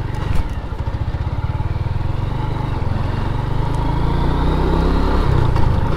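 A motorcycle riding along a path through open farm fields in North Bengal, its engine close and loud with a steady, throbbing putter that rises slightly in pitch as it goes.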